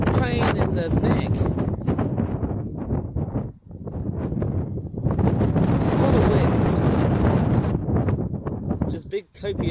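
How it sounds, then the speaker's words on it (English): Strong gusty wind buffets the microphone at an airport where an Airbus A320 is present, a loud continuous roar that surges and briefly dips, with a voice speaking over it. "it's extremely windy today"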